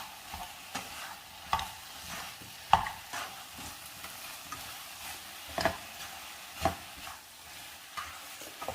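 Papaya masala curry stirred in a pan with tomato, soft sizzling under repeated spoon scrapes and taps against the pan at an irregular rhythm, close and fairly quiet.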